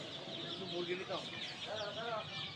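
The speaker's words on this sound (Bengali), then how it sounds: "দেখতে পাচ্ছেন টাইগার মুরগির বাচ্চাগুলো" A group of tiger chicken chicks cheeps and peeps close by, with quick overlapping high-pitched calls over a soft farm background.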